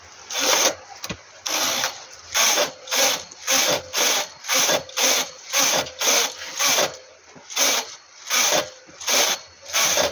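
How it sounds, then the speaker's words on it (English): A knitting machine carriage knitting rows, a rhythmic series of about fifteen rasping, sliding passes, each a second or so long with short gaps, close and loud with no talk. "So I'm going to knit 14 rows right now."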